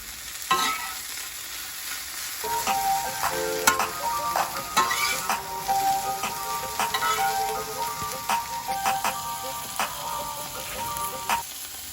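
Beef steak fajitas sizzle in a stovetop pan, a dense crackling fry with repeated scrapes and clinks of stirring and flipping throughout, close and fairly loud.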